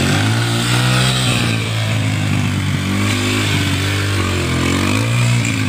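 A motorcycle engine revs loudly and repeatedly, pitch rising and falling in surges over a constant close-up idle rumble.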